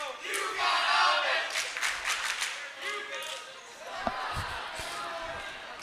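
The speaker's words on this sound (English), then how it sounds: "students here they're brand new at cheering for volleyball" A student crowd cheering at a high school volleyball match, loud shouts and whoops rising and falling over several seconds, with a few sharp thumps and a commentator speaking over the noise.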